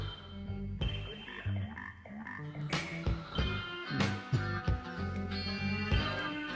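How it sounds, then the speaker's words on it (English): A frog croaking effect within a song, a series of rhythmic, throaty croaks pulsing over the music. "Little frog transition to solo."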